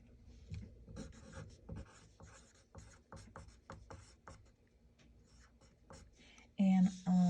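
A pen moves over paper, making close, quiet scratchy strokes in short bursts, with a louder sound cutting in at the end.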